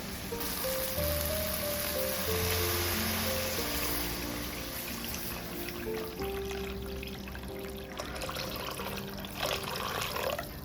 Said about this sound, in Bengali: মশলাটা কষানো হয়ে গেছে যে মশলার মধ্যে জল দিয়ে দেবো